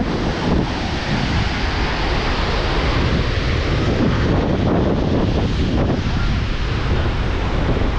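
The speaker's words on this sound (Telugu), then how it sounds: "చూడండి ఆ బ్రిడ్జ్ కిందకి వాటర్ ఎంత ఫోర్స్లో వస్తుందో" Water rushing forcefully under a bridge makes a loud, continuous broadband roar close by, mixed with gusty wind buffeting the microphone throughout.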